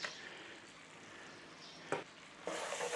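Onion paste frying with ground spices and chili powder in a pan for Punjabi chicken masala, a low steady sizzle with a couple of brief louder bursts as it is stirred.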